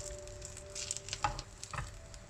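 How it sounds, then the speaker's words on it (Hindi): Food frying gently in a little butter in a pan over low heat gives a faint, intermittent sizzle with small crackles and light stirring or handling noises. "अब इनको फ्राई करते हैं। इसमें अब थोड़ा सा मैंने बटर डाला है"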